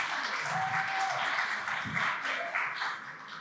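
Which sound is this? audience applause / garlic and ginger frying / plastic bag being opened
audience applause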